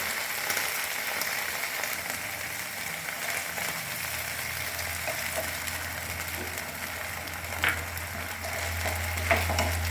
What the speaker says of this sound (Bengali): tomato sauce, soya sauce, chilli sauce সমস্ত দিয়ে একটু নাড়াচাড়া করে নিয়েই আমি কর্নফ্লোরটা গুলে রেখেছি সেটা দিয়ে দেবো